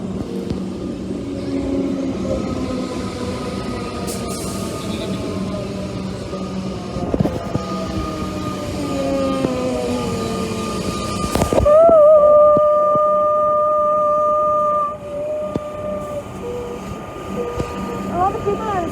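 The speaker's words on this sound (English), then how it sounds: "Because another train's coming." A 3-car suburban train rumbles into Newport station nearby, brakes squealing in long high tones as it slows, then a loud hiss of air before the noise settles.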